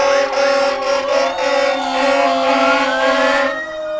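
Several fire truck sirens wail together in a railroad parade, loud overlapping rising and falling tones close by that sweep upward before trailing off at the end.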